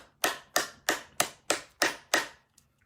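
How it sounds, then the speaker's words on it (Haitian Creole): Seven sharp, evenly spaced claps ring out close and loud at a steady rhythm, applause for young people at a Haitian public gathering, then stop abruptly. "bat bravo pour la jeunesse"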